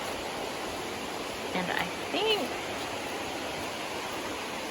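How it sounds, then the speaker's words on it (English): Waterfall on the Chattooga trail near Pigpen Falls, a steady distant rushing roar of falling water, with a brief spoken phrase and a couple of faint bird chirps over it. "walked maybe 3/4 of a mile to the second waterfall after Pigpen Falls."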